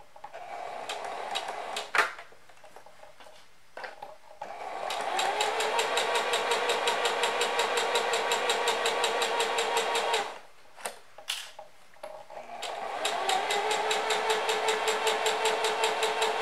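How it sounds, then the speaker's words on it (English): A serger or sewing machine finishes the edges of dress bodice pieces, humming in two long steady runs separated by a pause filled with brief stop-start bursts, close and alone. "If you have a serger, you're going to serge your edges."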